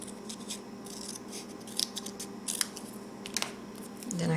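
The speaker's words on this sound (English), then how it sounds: "Is I just cut this down the middle." Scissors snipping through card stock, cutting a piece down the middle while making a stamped card, a few short crisp cuts close by with quiet handling noise between.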